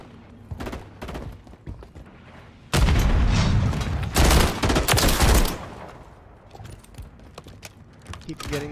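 Loud, dense video game gunfire from a non-automatic weapon in ranked play, a sustained heavy barrage with booming shots that tapers into scattered distant pops.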